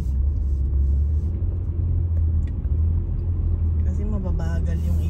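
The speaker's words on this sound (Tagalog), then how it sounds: "So dito banda maraming nang sasakyan." Road traffic with many vehicles, a loud continuous low rumble of engines and tires heard from inside a moving car, with a person talking over it.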